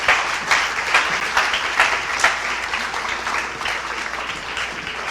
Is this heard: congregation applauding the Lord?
yes